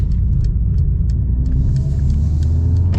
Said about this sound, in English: rev up a little bit, and it sounds pretty sweet